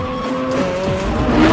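A green car races during practice, its engine revving loudly up close with rising whine and a brief tire squeal, short and energetic with no voices.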